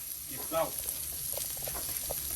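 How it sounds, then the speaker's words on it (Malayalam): Vegetables such as carrot sizzling and frying in a pan for nasi goreng in a Bali village, a steady close hiss with a few brief stirring scrapes and no talk. "നാസി ഗൊറാങ് നമുക്ക് അതിനുവേണ്ടിയാണ് ജസ്റ്റ് വെജിറ്റബിളൊക്കെ ടോസ്റ്റ് ചെയ്തെടുക്കണം"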